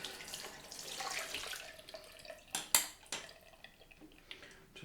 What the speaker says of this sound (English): Just rinse the cloth off and go for the pickup pass.